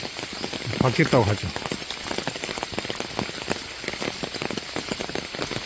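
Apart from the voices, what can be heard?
heavy rain falling at a temple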